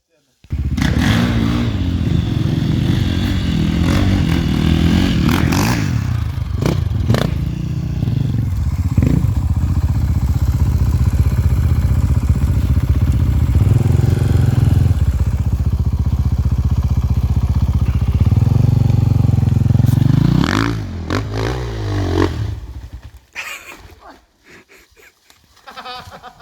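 Enduro motorcycle riding at the Újudvar motocross-enduro park in snow, frost and mud, its engine droning loud and continuous for about twenty seconds with revving surges, under intermittent voices, then fading to quieter ground noise.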